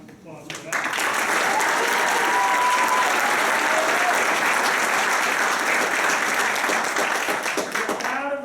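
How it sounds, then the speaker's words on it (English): Sustained audience applause at a high school wrestling awards ceremony, rising quickly after a brief lull into steady, full clapping from a large crowd that holds loud throughout. "Round of applause for that."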